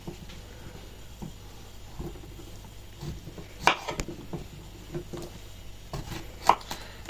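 A knife chopping green zucchini on a board, with sparse irregular soft cuts and a few sharper louder knocks against a quiet background.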